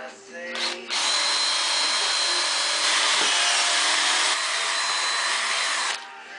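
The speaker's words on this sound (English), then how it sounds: "so I'll get to drilling." Power drill boring into a wooden gun stock, a loud sustained high whirring for about five seconds, starting and stopping abruptly.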